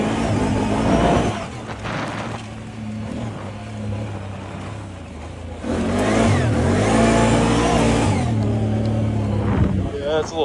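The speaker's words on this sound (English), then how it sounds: "I just got the bike warmed up, so she's ready to ride." A G1 800 motorbike engine revs as it rides on a dusty track, a loud, steady roar with rising and falling pitch swells, close to the microphone.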